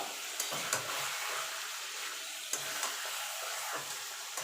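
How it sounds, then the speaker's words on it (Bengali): Meat sizzles steadily in a hot pan, with occasional scraping and stirring knocks at irregular intervals and no talking. "মাংসটাকে একটুখানি মানে ভাজা ভাজা টাইপের করে নেব"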